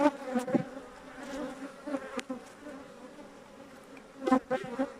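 A close, steady buzzing of many honeybees in a hive fills the clip, with scattered thumps and handling noises over the continuous drone.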